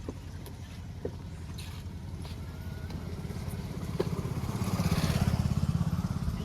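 A motorcycle engine is started and settles into a low, throbbing idle that grows steadily louder toward the end, with no talking.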